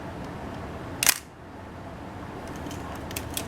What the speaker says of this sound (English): I'm going to speed up the shutter speed, and I'm going to make it 1/500th of a second.